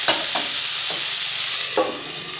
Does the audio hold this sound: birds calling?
no